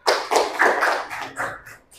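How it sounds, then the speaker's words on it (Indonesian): Audience clapping for a classmate who stepped up in a micro teaching class, a short burst of hand claps and taps that swells and fades over two seconds with no talk. "oke, tepuk tangan buat Mbak Jihan yang berani maju"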